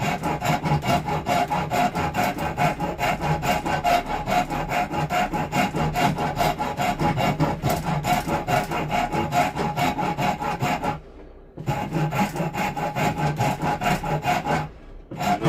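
Continuous rhythmic rasping as a file works an oak knife handle, fast close back-and-forth strokes with two brief pauses, loud and steady throughout.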